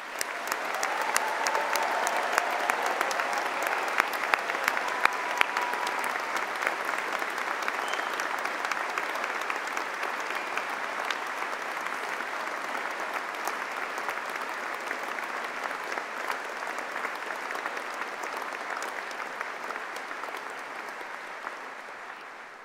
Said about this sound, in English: please join us in giving all recipients of awards and prizes a final round of applause.